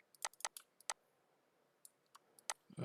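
Code is typed on a computer keyboard in sparse, quiet key clicks, a quick cluster at first and then scattered single taps, close and faint with no talk.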